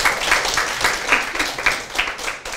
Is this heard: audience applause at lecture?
yes